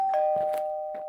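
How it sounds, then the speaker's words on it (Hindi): A doorbell in a Hindi comic-story narration rings with a steady electronic tone, accompanied by a few soft taps and clicks over about a second, close and clear, with no speech. "तभी दोबारा घंटी बजती है।"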